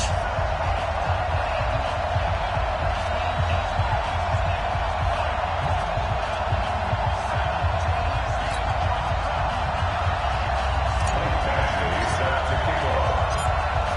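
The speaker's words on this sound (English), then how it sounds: "introduced to this, as always, sold-out crowd as they get set to go head-to-head with the Los Angeles Chargers." A sold-out stadium crowd in a football video game roars as a New England Patriots versus Los Angeles Chargers matchup gets underway, a dense steady wall of crowd noise running under commentary throughout.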